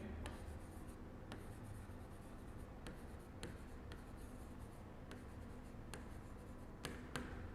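Chalk or marker writing on a board during a chemistry lecture on the periodic table: a steady scratchy texture with repeated short taps and strokes, moderately quiet, with no talking.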